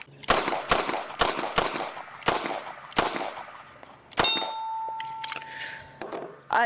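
A Springfield Hellcat Pro Comp compensated pistol fires a quick string of about six sharp, loud shots, then a couple more spaced out, with a faint metallic ringing lingering between the later ones.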